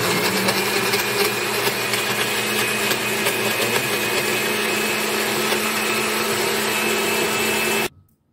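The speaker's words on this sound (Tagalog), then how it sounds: "Saka po natin takpan yung ating blender. Tapos i-blend po natin." A blender blending papaya and carrots whirs at high speed in a loud, steady roar for several seconds, then cuts off abruptly at the end.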